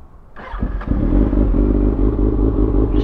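A warm motorcycle engine with battery issues cranks and catches at once, settling into a loud, steady, lumpy idle close by.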